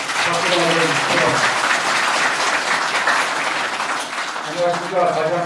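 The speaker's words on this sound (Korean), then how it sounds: "네, 박수 한번 주시죠." An audience applauds at a 2017 Korean presidential candidacy announcement event, a steady wash of many hands clapping that carries on for several seconds with voices faintly underneath.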